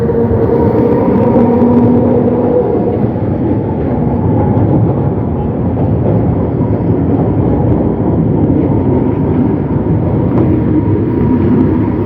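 A tram rumbles steadily close by at Sidi Gaber tram station in Alexandria for the whole stretch, a continuous low mechanical roar with no voices.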